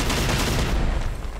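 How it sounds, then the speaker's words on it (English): Gunfire in the shooter game Generation Zero, a close, loud burst of rapid overlapping shots that rattles for about a second and then tapers off. "Somebody's shooting at me."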